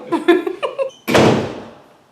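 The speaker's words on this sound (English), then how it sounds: "why are you slamming the door?" A door is slammed hard indoors with a loud, sudden bang that rings out and fades, just after a woman's short spoken phrases close by.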